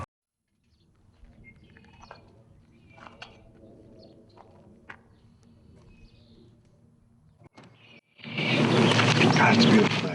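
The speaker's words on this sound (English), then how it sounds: "But the birds are back." Faint birdsong with scattered chirps and coos sounds outdoors on a river farm, thin and distant over a low steady background, before a loud broadband rush of wind or water noise swells in at the end.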